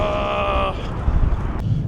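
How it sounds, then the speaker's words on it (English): Steady wind roaring and buffeting a microphone, with low rumbling gusts that strengthen toward the end. "it's super windy here today"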